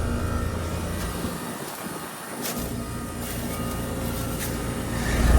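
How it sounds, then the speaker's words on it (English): A 2011 Trane XR15 three-ton R410A heat pump in heat mode, its compressor starting with a loud, steady mechanical hum and rumble, a short dip partway through before the drone returns and swells toward the end. "It's the compressor popping top."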